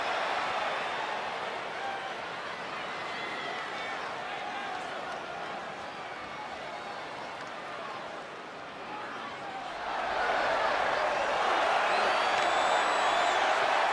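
A large arena crowd in the WWE 2K20 video game roars and cheers steadily in the distance, swelling louder near the end; a wrestling announcer talks over it.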